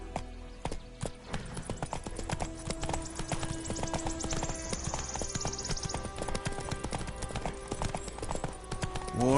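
Hooves of Roach the horse clip-clop in a steady walking rhythm in The Witcher 3: Wild Hunt, crisp and close, with a brief whinny and ambient game music underneath.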